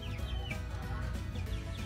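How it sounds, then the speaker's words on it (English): Young chickens cluck steadily at close range in a small enclosure, soft repeated calls layered over continuous low background noise with no talking. "Morning, little chickens."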